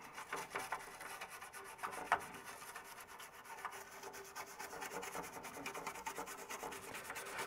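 Brush scrubbing across a Varta battery-damaged DTK PTM-1000 286 motherboard being cleaned with isopropanol, a steady faint bristly rubbing with quick repeated strokes and one brief louder scrape, no talking.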